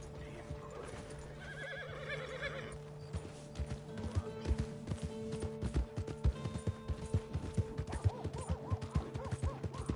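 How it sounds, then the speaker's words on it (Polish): Horse hooves clip-clop in the Red Dead Redemption 2 online beta, a steady rhythmic clatter of steps close by, joined by a horse neighing and whinnying along with game music and ambient sounds. "Tego konia sobie wezmę."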